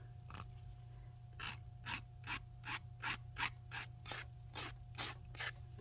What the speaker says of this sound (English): To remove all of this excess, I just come in with my file and it shaves it right off.